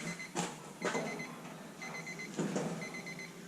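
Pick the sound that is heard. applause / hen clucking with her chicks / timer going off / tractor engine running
timer going off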